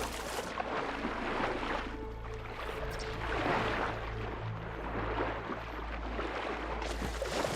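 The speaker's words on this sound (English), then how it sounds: "Time for a swim." Sloshing and splashing of a character swimming through water in Horizon Forbidden West, a continuous soft wash with a few stronger strokes, no voices.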